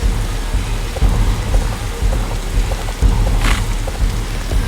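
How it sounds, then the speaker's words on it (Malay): Rain and thunder in a Roblox survival game, a steady loud hiss of rainfall over a low rumbling roar that swells in gentle waves throughout. "Lepas tu hujan."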